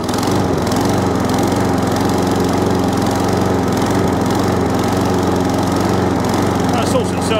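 A trash-picked lawn mower engine with carburetor problems runs loud and close, a steady buzzing roar that surges and hunts without settling into an even idle.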